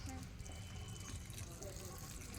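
Water splashes and trickles steadily as it is poured from a container onto garden plants, with a voice murmuring faintly underneath.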